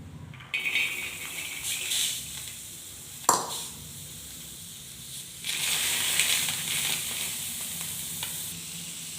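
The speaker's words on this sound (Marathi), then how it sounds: "आता या शेंगा आपल्याला तव्यामध्ये ओतायच्यात।" Salted peanut pods tip onto a hot griddle, setting off a sharp sizzle and rattling, dry crackle that swells and settles, close and fairly loud, with no talking.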